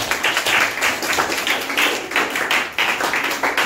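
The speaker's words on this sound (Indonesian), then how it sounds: "Kita kasih tepuk tangan dulu." A classroom gives a group of presenting students a round of applause: dense, lively clapping from many hands, close and loud, with no talking.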